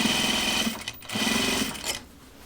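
A sewing machine stitching a jacket, running in two steady close bursts of rapid mechanical whirring with a brief pause between, then slowing to a stop.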